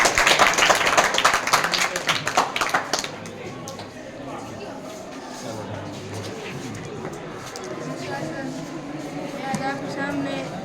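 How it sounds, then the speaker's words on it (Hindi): A school audience at a Pi Day exhibition bursts into dense, loud clapping for about three seconds, then it cuts off abruptly and gives way to quieter room noise and murmuring. "ताली बजाओ भाई"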